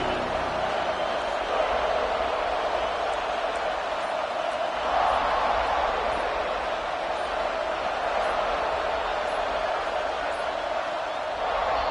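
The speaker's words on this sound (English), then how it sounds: "This crowd bringing an ear-splitting welcome to their visitors." Stadium crowd noise from an NCAA football video game, Penn State versus Michigan: a steady, dense roar of cheering spectators that holds at an even level throughout, with a slight swell near the middle.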